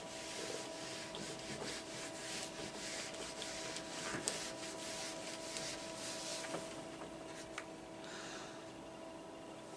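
Steady rubbing on a classroom board as it is erased, a continuous broadband scrubbing texture with small strokes and bumps throughout, fairly quiet with no talk over it.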